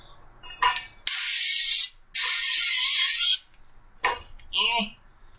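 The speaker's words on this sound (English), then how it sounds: "So I'm going to be spraying them with vegetable oil." Vegetable oil sprayed from a can into cake pans: two long, loud hissing bursts close by, with brief bits of a voice talking before and after.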